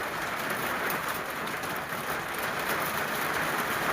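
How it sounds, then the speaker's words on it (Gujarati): Heavy rain with big drops pours down steadily, a dense, constant close hiss that holds at an even level throughout, with no voices. "ધડાધડી મોટા છાંટે વરસાદ આવે"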